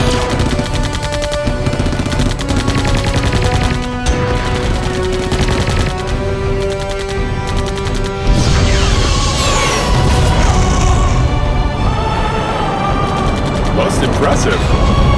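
Loud, dense automatic gunfire and explosions crackle through a sci-fi movie battle against Nephilim, sustained rapid bursts layered with booms and a musical score. Shouting voices break in over the barrage.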